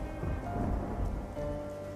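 Steady heavy rain with a low rumble of thunder rolling underneath, a dense continuous wash with no voices, falling on a poor family's small hut.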